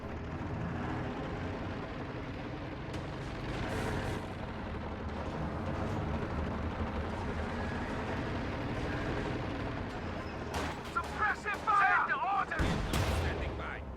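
In a World War II strategy video game, an anti-tank gun fires on a Panther tank amid a dense battle soundscape of rumbling gunfire and explosions, with sharper blasts and crackling impacts near the end.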